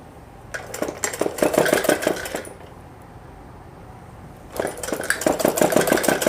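A sewing machine runs in two bursts, stitching pleats into suit cloth with a rapid, close mechanical chatter. A quiet pause of about two seconds separates the bursts, and there is no speech.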